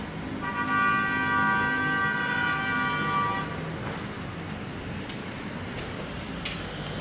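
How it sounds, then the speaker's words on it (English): A coded police siren from a robotics project sounds as a steady, harmonic electronic tone for about three seconds, then cuts out, leaving a noisy background with faint scattered sounds. "But as long as it works, it's a police siren"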